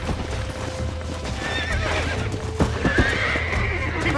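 A horse gallops with rapid hoofbeats and lets out a loud whinny in the Red Dead Redemption video game, set under a dense bed of game sound and music.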